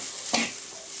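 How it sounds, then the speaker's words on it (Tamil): Boiled soya chunks sizzle in a frying pan, with one quick scraping stir standing out above the constant frying hiss. "இப்போ சோயா போட்டதுக்கப்புறம் ஒன்று கூட நல்லா மிக்ஸ் பண்ணிக்கோங்க."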